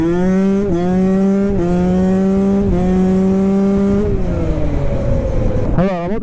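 KTM SX 125 two-stroke motocross bike pulls hard from second gear, engine screaming close and loud through several rising rev climbs with brief shift dips, then easing off as the front wheel lifts into a wheelie.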